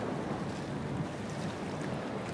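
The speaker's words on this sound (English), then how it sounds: "That was the reminder about how windy and choppy it is out there." Blustery wind and choppy open sea water with white caps off Sydney, Australia, at a cliff diving event: a steady, fairly loud broadband rush of gusting wind and wave wash, continuous and alone with no voices.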